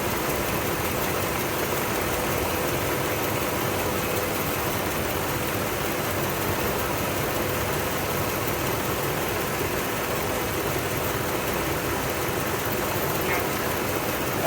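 A Mopar engine runs steadily at idle with a noise coming from where the exhaust manifold meets the pipe, making a continuous, fairly loud low rumble and rough broadband drone with no break.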